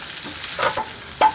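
Sliced onions and green chillies fry in oil for chilli beef, a brief steady sizzle with a couple of spoon strokes against the pan, close and with no talk.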